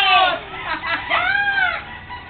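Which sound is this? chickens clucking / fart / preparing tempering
chickens clucking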